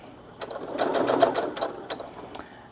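A sewing machine stitches along the edge of a self-binding Minky blanket, its needle running in a steady close burst that pauses briefly and then resumes with a few short stitches.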